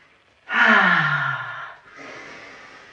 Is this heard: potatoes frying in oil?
no